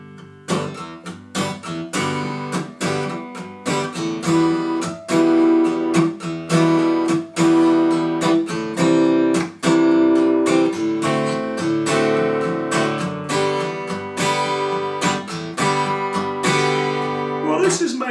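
An acoustic guitar strums chords along to a song in a steady 4/4 pattern of eighth-note downstrokes, loud, close and continuous, with no voices.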